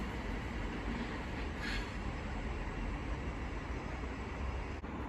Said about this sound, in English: now departing is the 13:42 London Northwestern Railway service from Birmingham New Street